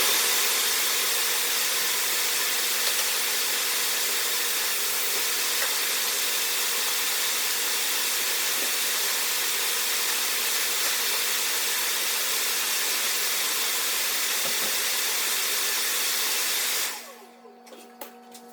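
A vacuum cleaner fitted with an extension wand runs continuously on a dirty floor during spring cleaning at a lodge, a loud steady roar and hiss that stops abruptly near the end.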